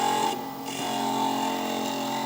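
A small drill bores into a stone ball bead held in a piece of tubing, its motor giving a steady, close, high whine that runs unbroken, with no talking.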